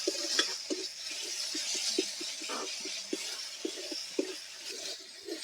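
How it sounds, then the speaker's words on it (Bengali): Ginger and garlic paste frying in a pan while being stirred, with a soft steady sizzle under repeated light scrapes and clinks of the spoon against the pan. "আদা বাটা 1 চামচ, 1 চামচ রসুন বাটা। একসাথে মিশিয়ে ভেজে নেব যতক্ষণ না কাঁচা গন্ধটা চলে যাচ্ছে।"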